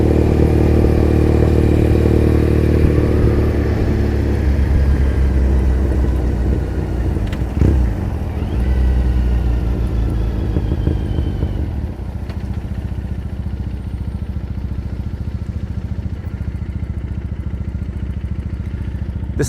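A motorcycle rides through Tokyo with loud, close exhaust drone for most of the stretch, then rumbles quieter and steadier with brief clatter, with no talk over it.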